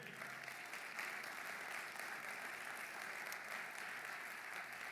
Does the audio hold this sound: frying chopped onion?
no